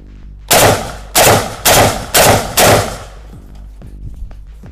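Five loud, sharp blasts from a Kral Arms Tavor-style bullpup shotgun during test firing, spaced roughly half a second apart, each with a short ringing decay, then quiet background afterward.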